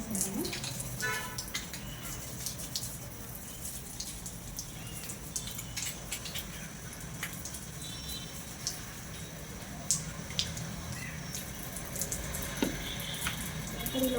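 Continuous running water splashes and patters close by, steady throughout, with faint knocks and clatters of LG front-load washing machine parts being rinsed.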